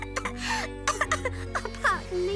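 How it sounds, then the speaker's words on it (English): A cartoon character, a pie-shaped toy, coughs and clears her throat in short raspy bursts, close and mixed with whimpering vocal sounds. "I can't stop coughing."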